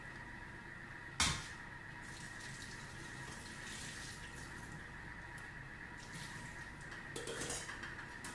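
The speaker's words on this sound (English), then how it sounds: "I'm just gonna pour it out and rinse it out." Water poured out of a Thermomix bowl and rinsed at a sink, with a sharp clunk of the bowl early on, then steady running tap water and a later clatter of the bowl.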